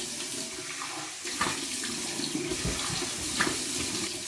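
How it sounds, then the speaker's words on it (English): Warm water running from a tap into a sink while rinsing after a shave with Schapenmelk soap, a continuous splashing flow with a few louder gushes, close by. "warm water rinse."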